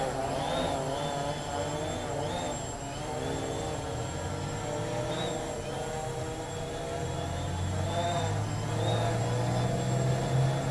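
A Helimax Form 500 RC helicopter flying outdoors, a steady whirring rotor and motor drone with a faint high whine and shifting pitch, continuous and moderately close, with people talking over it.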